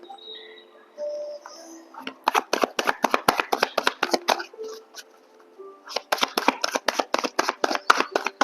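A deck of oracle cards being shuffled and cut, with two long runs of fast, crisp riffling clicks separated by a brief pause and softer handling at the start.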